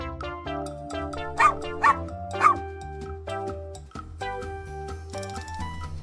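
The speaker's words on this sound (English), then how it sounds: "Dog." A dog gives three quick, sharp barks over a cheerful children's music backing, with a short whimpering yip afterward.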